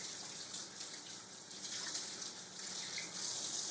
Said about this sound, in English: Go ahead, turn on some warm water, stick your hands underneath,